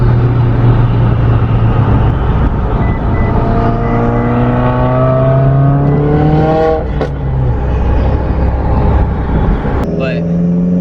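Stage 3 catless Subaru WRX engine revving loudly, with rising harmonic sweeps as the revs climb and fall, a sharp pop near the end and a steady exhaust drone throughout.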